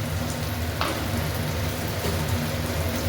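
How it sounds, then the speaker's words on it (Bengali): Masala spices with red chilli powder and a little sugar sautéing in a hot pan, a steady close sizzle and crackle of frying with faint stirring, no voices. "এবার ভালো করে মশলাটা কষিয়ে নেব"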